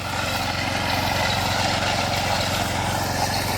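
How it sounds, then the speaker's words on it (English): A power trowel runs on a freshly poured concrete slab at an ADU foundation, giving a steady, loud engine drone with a low pulsing throb that holds constant and close throughout, with no voices. "Power trowel running."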